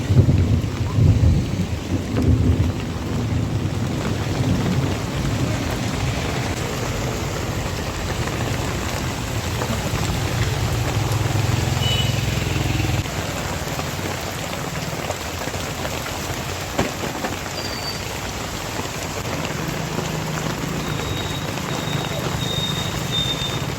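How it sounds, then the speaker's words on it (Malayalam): A sudden heavy summer rain pours steadily while thunder rumbles loudly at first, then the downpour continues with occasional distant rolls. "എന്താ ഒരു ഇടിയാണ് നോക്കിയേ, ഒന്നൊന്നര ഇടിയാണ്. നല്ല വേനൽ മഴ"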